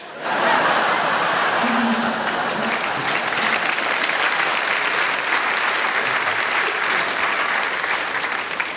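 Audience at a live stand-up comedy show applauding the comedian, steady loud clapping throughout with scattered chuckles and a few voices mixed in.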